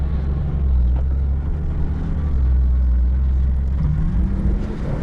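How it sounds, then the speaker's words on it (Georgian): Nissan Patrol engine pulling steadily in low gear while climbing with diff lock engaged, a deep continuous rumble held at a near-constant level without voices. "ნახოთ როგორ ავა მანქანა."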